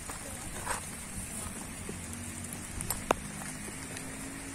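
Rain falls on a street in Cali on a cold afternoon, a faint, steady patter and hiss with a few soft drips and knocks, quiet and distant, with no clear voices.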